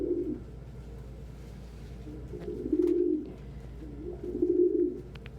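Ringneck doves kept together as a group coo indoors, with two soft rolling coos a couple of seconds apart over a quiet room hum.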